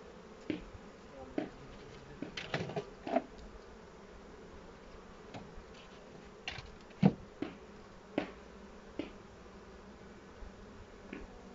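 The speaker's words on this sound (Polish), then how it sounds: "Pszczoły są spokojne." Calm honeybees hum quietly around an open hive, a low steady buzz beneath a series of sharp knocks and clicks from frames being handled, spaced irregularly throughout.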